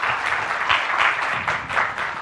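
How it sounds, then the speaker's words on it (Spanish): A short burst of audience applause in a lecture hall after a talk on development frameworks, steady clapping for a couple of seconds. "Les pido un fuerte aplauso para nuestro amigo César que nos acompaña aquí"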